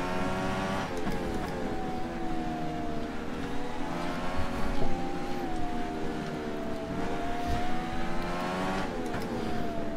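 A Dallara DW12 race car engine in rFactor 2 at Atlanta Motorsports Park holds a high, steady whine that climbs and dips through upshifts and downshifts, close and continuous with no voices.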